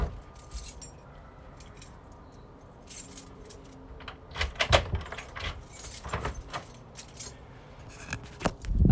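A bunch of keys jangles and clinks in bursts, quiet at first and then busier and louder toward the end, close by with no talk.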